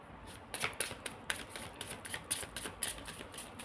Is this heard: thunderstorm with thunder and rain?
no